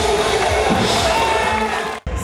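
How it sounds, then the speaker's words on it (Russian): A circus audience in a newly reconstructed Baku circus building claps steadily while excited children shout, a dense, loud, continuous crowd roar that breaks off briefly near the end. "Зритель хлопает, восторженные дети кричат, это очень здорово."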